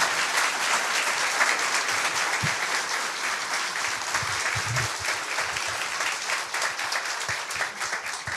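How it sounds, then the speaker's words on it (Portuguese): A large audience applauds continuously, a dense even wash of clapping holding steady throughout. "Uma salva de palmas para o nosso orador de hoje."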